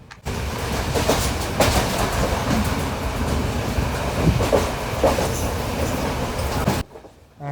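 Train travelling at speed on the rails between Kilinochchi and Colombo, a steady loud rumble with rhythmic clacking and rattling that holds for several seconds before cutting off near the end.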